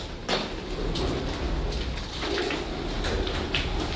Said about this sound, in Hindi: देखो कबूतरों की आवाज खटखट हो रही है।